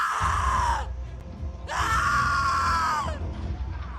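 A person imitates a creature's shriek during a Dungeons & Dragons 5e session, giving two loud, harsh screams, each about a second long, separated by a short pause.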